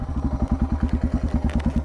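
Suzuki DR650 single-cylinder motorcycle engine running after carburetor modifications, a steady, close thumping idle-like pulse with even, regular firing beats and some mechanical clatter, no voices.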